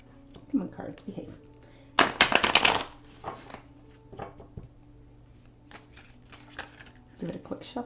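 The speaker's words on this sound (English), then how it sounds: "Give it a quick shuffle here." A brisk riffle of tarot cards being shuffled, a short burst of crisp flicking, with scattered handling sounds and quiet talk around it.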